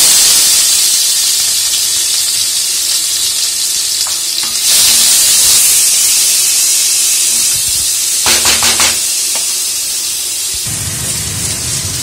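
Onion paste sizzles and fries steadily in a hot pan with cinnamon and cardamom, a loud continuous hiss with brief stirring scrapes and a surge of spitting partway through.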